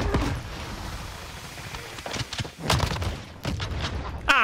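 A grenade blast and gunfire in Call of Duty Warzone Zombies; a loud, dense roar of shots and booms that surges into a heavy burst near the middle, with a sharp metallic crack at the end.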